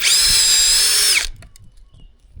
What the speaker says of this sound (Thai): เจาะไม้สบายเลย